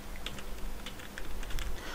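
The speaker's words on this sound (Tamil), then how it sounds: "இப்போ நான் டைப் பண்ணுறேன்" Keys clatter on a computer keyboard as a name is typed, a quiet, uneven run of light clicks in close succession over a faint background hiss.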